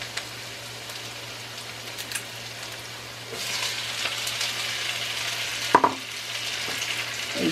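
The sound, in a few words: chili and tomato sautéing for shredded beef tacos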